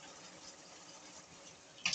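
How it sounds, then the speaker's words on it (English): Water runs steadily from a faucet delivering only cold water, a faint, even hiss lasting two seconds with a small splash near the end. "So when you turn it on, it's only cold water."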